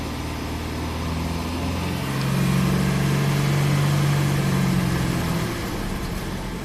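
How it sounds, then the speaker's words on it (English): A GMC Sonoma engine idles, then its revs rise for a few seconds to a steady higher pitch and ease back down, a steady hum heard up close. "So I'm going to raise the RPMs."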